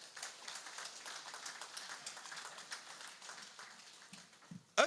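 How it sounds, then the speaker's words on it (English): A room at a sports awards ceremony breaks into steady, moderately distant applause, a dense patter of many hands that stays fairly even, then thins out and ends in a sharp, close bump. "So a round of applause for"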